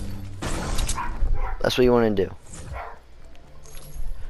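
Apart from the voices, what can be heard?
dogs barking at someone arriving home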